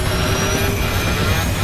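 XL Airways airliner engines running up as the captain increases throttle: a loud, dense, continuous roar with a faint steady whine, heard throughout and without any voices.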